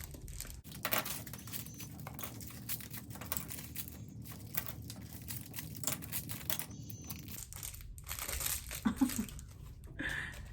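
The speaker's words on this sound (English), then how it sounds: "so let me unwrap these real quick." Packaged makeup brushes being unwrapped: steady crinkling and crackling of plastic wrapping close by, soft and continuous, with occasional tearing and rustling toward the end.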